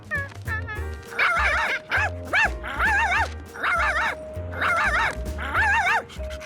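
A cartoon dog in an animated Curious George episode gives a run of loud, close, high-pitched yips and whining barks in quick bursts, with no one talking.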